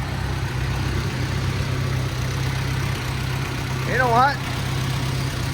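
Allis Chalmers D15 Series II tractor engine idles steadily with a low, even drone throughout, while someone speaks briefly near the end over it.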